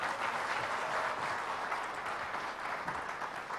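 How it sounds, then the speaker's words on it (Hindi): A crowd applauds Baba Ramdev at a business session, a soft, steady, fairly distant patter of many hands that holds throughout without a break. "ये तालियां बजते रहे बाबा रामदेव के लिए।"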